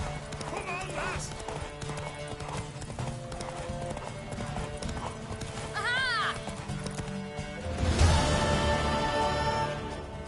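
Horse hooves clip-clop steadily in The Witcher 3 video game, with a clear mare's whinny rising midway and a louder burst of hoofbeats near the end, all under game music and spoken dialogue.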